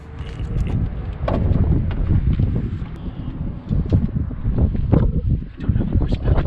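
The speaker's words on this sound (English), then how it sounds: "Very windy." Gusty outdoor wind buffets the microphone in loud, rumbling bursts that rise and dip irregularly, with a few brief rustles and knocks mixed in and no clear talk.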